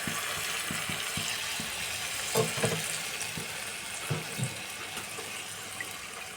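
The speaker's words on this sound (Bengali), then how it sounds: "আমি এবার আঁচটা বাড়িয়ে দিলাম, আমি মশলাটা দিয়ে দিলাম।" Spice paste of ground mustard, poppy seed and green chili frying in a pan over raised heat for a prawn curry, a steady close sizzle with soft stirring scrapes and a few louder spits.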